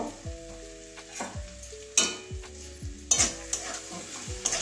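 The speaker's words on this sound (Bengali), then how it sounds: "ভালো করে মিশিয়ে নিচ্ছি" A spatula stirs an egg, cabbage and carrot curry in a pan, several distinct metallic scrapes and clanks at irregular intervals over a soft background sizzle, close and without voices.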